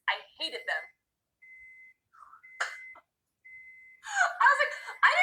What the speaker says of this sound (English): I didn't set a timer. My oven's preheated.